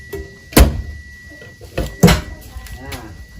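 Two sharp plastic thunks and clicks as the fuel door lever inside a 2021 Daihatsu Sigra is pulled, close and loud, with someone speaking quietly around them.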